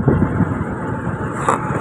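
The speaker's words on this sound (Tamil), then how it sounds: "ரெண்டு பேரும் வண்டி ஓட்டிட்டு வராங்க." Vehicles passing on a road in Ladakh, a loud close engine rumble and whoosh that swells briefly near the start and again later, heard alone without talk.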